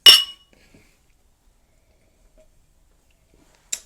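Glasses clink together in a champagne toast, one sharp ringing clink at the start and a second fainter one near the end, with near silence between.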